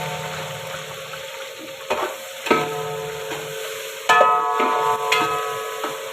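Onions frying in a large pot for beef nali biryani, a soft sizzle broken by a few scraping stirs and clanks of a spoon against the metal pot, with no voices.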